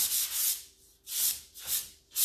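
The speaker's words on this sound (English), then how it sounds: "I'm just sanding it to get it smooth" Rhythmic back-and-forth hand sanding of chalk-painted wood, about five strokes, close and clear with short pauses between them.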